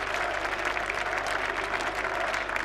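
Steady, dense applause from a cricket crowd at an England versus New Zealand Test match in 1999, filling the whole stretch at an even level with no break.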